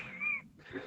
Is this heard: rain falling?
no